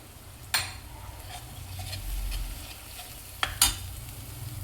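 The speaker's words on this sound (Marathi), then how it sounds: "अर्धा चम्मच हळद, मिक्स करून घेऊया।" Turmeric is stirred into tendli sabzi in a pan: a soft, low sizzle runs underneath while a few sharp scraping clicks of the spoon against the pan stand out, close and fairly quiet, with no talking.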